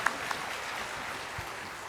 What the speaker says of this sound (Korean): 하나님께 영광의 박수를 돌려드리겠습니다